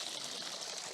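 A mountain stream flows and trickles steadily, a broad continuous wash of running water heard close and alone, with no voices.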